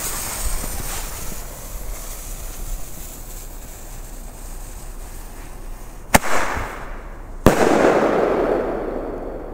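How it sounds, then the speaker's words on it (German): Flash Bang firecracker pipe exploding outdoors: two sharp, very loud cracks a little over a second apart, each followed by hissing, crackling spray, over wind noise. "Jetzt der Flashbang."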